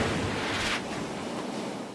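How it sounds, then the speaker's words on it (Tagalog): Strong, angry ocean waves crash against a damaged seawall along a coast, a loud continuous roaring surge of broadband water noise with wind, swelling briefly before easing slightly. "Nasira ang bahagi ng seawall doon dahil sa mga nangangalit na alon."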